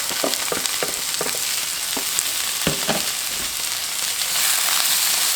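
Corned beef frying in butter in a pan, a steady close broadband sizzle with scattered crackles and pops throughout, no voices.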